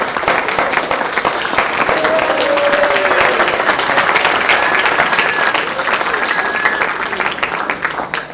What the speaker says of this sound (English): can you stand up and receive a round of applause for your time and energy?